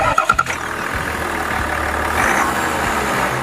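A 2020 GMC Sierra 1500 with the 3-liter Duramax inline-6 diesel fires up after a few sharp clicks, then settles into a steady low idle rumble, moderately loud and alone.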